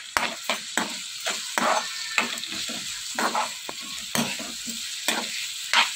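Cumin, rock salt and onions sizzle in hot oil as a spatula scrapes the pan in repeated rhythmic strokes, close and clear with no talking.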